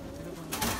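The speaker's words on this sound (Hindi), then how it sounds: "क्योंकि इतने कबूतर हैं पकड़ पकड़ के नहीं दिखा सकते हो" Brief soft pigeon coos close by, low and throaty, over faint background noise.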